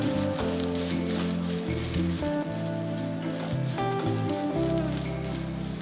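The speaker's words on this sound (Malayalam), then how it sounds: "ഇത്രയും കൂടി ഇട്ട് വേണം തേങ്ങ വറുത്തെടുക്കാൻ" Grated coconut dry-roasts in a pan with cloves, cinnamon and cardamom, giving a loud, continuous crackling sizzle with scraping stir sounds and no voices.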